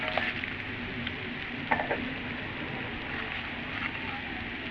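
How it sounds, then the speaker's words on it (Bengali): Potatoes and onions fry steadily in a pan of oil, a continuous close sizzle and hiss with a few brief crackles and pops, no voices. "বন্ধুরা দেখুন আলু পেঁয়াজ আমি সুন্দর করে ভেজে নিচ্ছি"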